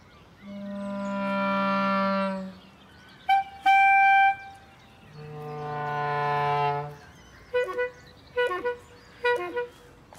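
A voice imitates car horns: long sustained honks alternating with short clipped toots, several in a row, loud and close.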